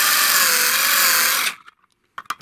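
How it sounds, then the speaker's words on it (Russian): A power drill bores a cable hole with a 7 mm bit, a loud steady whine for about a second and a half before cutting off abruptly, followed by a few faint clicks and handling knocks. "Отверстие под кабель делаем сверлом 7 мм."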